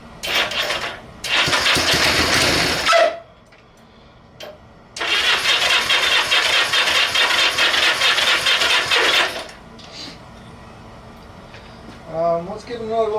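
A Honda Benly motorcycle, newly fitted with a battery, cranks and fires up, running in loud bursts with a break between, then settling toward a lighter idle with blips of throttle.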